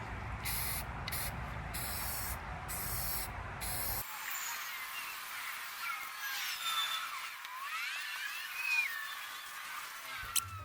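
Aerosol spray paint hissing in bursts over a sanded, acetone-cleaned guitar pedalboard, with several short sprays at first and then a steadier, quieter hiss, close and without talk.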